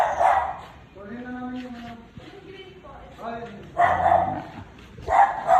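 Dogs bark in short bursts, fairly close, while a person talks over them.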